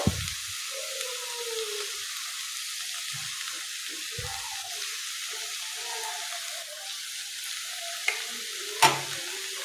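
Crispy okra stir-fry with chili powder is stirred in a pan, giving a soft steady sizzle with occasional scrapes and a sharp clink of a utensil near the end, with no talk.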